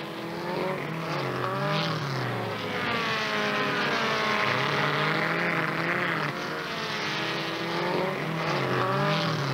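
1970s Formula Super Vee race cars scream past in a loud, sustained engine roar, several cars overlapping with rising and falling pitch as they pass on the circuit.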